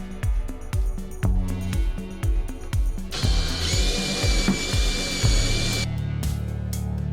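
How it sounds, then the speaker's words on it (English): A power drill with a Forstner bit bores into purpleheart wood with a loud, steady whine, joined midway by a higher grinding screech as the bit cuts deeper, with repeated knocking thuds throughout. "drilling down that channel with my Forstner bit to get some of the material out"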